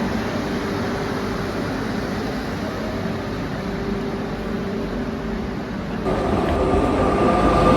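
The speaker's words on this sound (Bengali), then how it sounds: "হাওড়া এনজেপি শতাব্দী এক্সপ্রেস প্রথম দিন থেকে এই ট্রেনেরও স্টপেজ রয়েছে বোলপুর শান্তিনিকেতন স্টেশন" Howrah–NJP Shatabdi Express at Bolpur Shantiniketan station, a steady loud rumble of rolling coaches that intensifies near the end.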